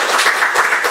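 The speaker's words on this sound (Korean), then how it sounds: "예, 박수로 한번 환영하겠습니다." A church congregation at a Sunday worship service clapping to welcome a visitor, a brief, loud burst of dense applause close by.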